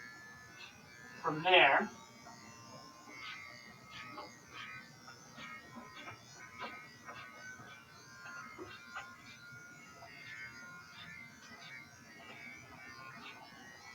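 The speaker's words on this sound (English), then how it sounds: "I have the clipper going straight up, and I sort of pull it away" An electric hair clipper with a guard comb buzzes steadily at low level during a self-administered fade haircut, with one brief louder burst near the start and someone talking over it.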